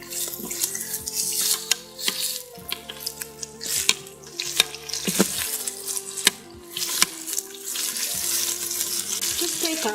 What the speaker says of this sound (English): Sear them for about 2 minutes on each side.